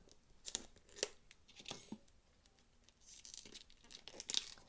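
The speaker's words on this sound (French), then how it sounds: "on va l'ouvrir ensemble en essayant de ne pas abîmer la boîte" The packaging of a rune oracle card box is opened by hand: quiet crinkling, several sharp tearing rips and rustles at close range in a still room, with no talk.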